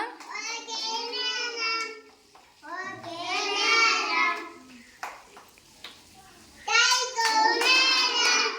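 In an Anganwadi class, children clap in short, brisk bursts for Aaradhya, and the clapping is interleaved with clear, close speech from an adult and a child.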